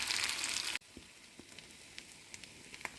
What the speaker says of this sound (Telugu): ఇది కూడా దీంతో కలిపి కొంచెం బాగా వేయించుకోవాలి